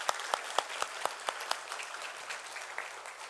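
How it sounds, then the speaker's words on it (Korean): A church congregation applauding, a steady patter of clapping with a few sharp, distinct claps standing out early, faint and moderately distant, fading slightly toward the end. "우리 하나님 앞에 크게 영광의 박수를 돌리겠습니다"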